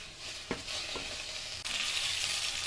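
Cockroaches frying in hot oil in a pan, with a steady close sizzle that is stirred with a couple of soft clicks and then swells louder partway through.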